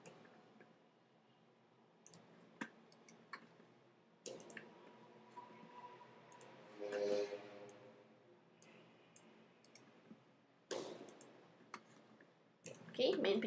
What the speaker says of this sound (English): select, right click, layer via cut